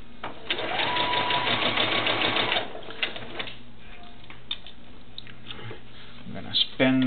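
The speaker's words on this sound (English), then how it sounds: "You want to have your crease going with the needle so it sews in nice and smoothly." A sewing machine stitches a doll's shoe and leg in a steady whirring run for a couple of seconds, then stops, leaving a quiet stretch with faint handling noises and a brief clatter at the end.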